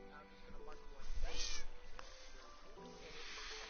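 A Minecraft cat meows in-game, a short high cry standing out around the middle over steady game background noise and murmured talk.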